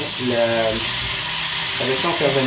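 Chopped onions and leeks sizzle in a hot pan with a steady, bright frying hiss throughout, while someone speaks over it in two short stretches.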